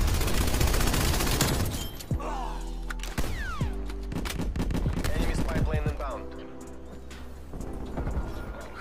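Rapid bursts from a PPSh-41 submachine gun in Call of Duty: Black Ops Cold War multiplayer, with several short volleys of close, loud gunfire over steady in-game background sound.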